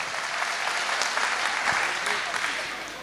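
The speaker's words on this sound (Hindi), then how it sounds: "जोरदार तालियां बजाइए एक बार।" Loud, sustained audience applause at a mushaira in Bhiwandi, a dense continuous roar of many hands clapping with crowd noise throughout.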